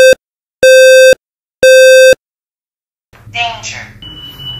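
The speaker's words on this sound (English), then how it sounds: "The alarm is loud." A Halo smoke and carbon monoxide alarm sounds three loud, long electronic beeps in a steady pattern with pauses between, followed by a synthetic voice speaking.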